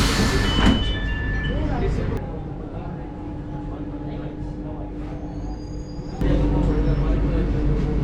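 A Chennai metro train pulls into Nehru Park station and comes to a halt, a steady low rumble and hum inside the car with a sharp change near the end as it stops, while a voice talks over it.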